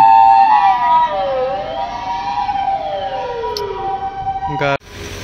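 An ambulance siren wails along a street at night in Japan, its tones sliding up and down steadily and loudly before cutting off abruptly near the end.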